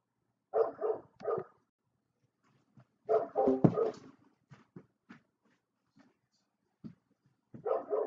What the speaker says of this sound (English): My dog's throwing a fit in our backyard.